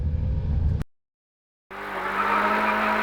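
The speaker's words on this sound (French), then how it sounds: "Donc juste on crame pour le plaisir dans la bagnole, c'est super." A rally car drives hard, its engine roaring loudly from inside the cabin, cutting briefly to silence before surging back with a sustained, bright, strained noise that may include tire squeal.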